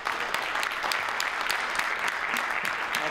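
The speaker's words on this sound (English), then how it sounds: "Everyone, please join me in a round of applause for Jonathan Walter Stuber." Steady applause from an audience at a county legislature session fills the room evenly, dense clapping at a constant level throughout with no voices on top.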